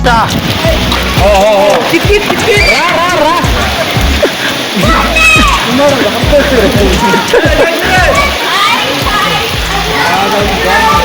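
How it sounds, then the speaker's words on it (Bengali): Rain falls steadily outdoors, a continuous loud patter and splash on surfaces close by, while voices talk throughout over the downpour. "বৃষ্টির জন্য আমরা এখন এখানে দাঁড়িয়ে আছি"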